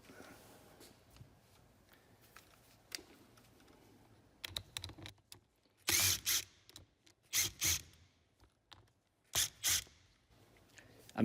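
Plastic housing of a Makita 12V drill being opened, with soft rattles and clicks followed by several loud, close bursts of scraping and clattering parts.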